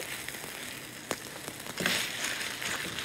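Chicken pieces being stirred in a sizzling pan, with a steady frying hiss, a few sharp scrapes and the sizzle swelling as they are turned.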